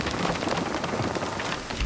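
Hail falling in the survival video game Nightingale, a dense, even hiss of pelting ice on surfaces, steady and fairly loud with no voices.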